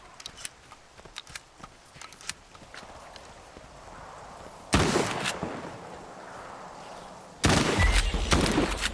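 Scattered sharp pops, then two long bursts of rapid gunfire in S.T.A.L.K.E.R. 2: Heart of Chornobyl, loud and dense, with a game-like crackle filling each burst.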